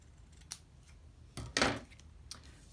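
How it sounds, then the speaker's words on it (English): Scissors cut small edges off paper on an altered calendar page, giving a faint snip followed by a louder, longer crunching cut and a final light snip in a quiet room. "So I'm gonna cut some little edges off there."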